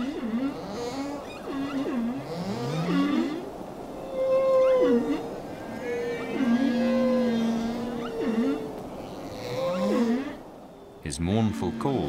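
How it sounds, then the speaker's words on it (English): Humpback whale song in the southern ocean during breeding season: long mournful moans and rising, falling tonal calls repeating for several seconds, loud and close, with an abrupt different noise at the very end. "His mournful calls can be heard by other whales up to 30 kilometers away."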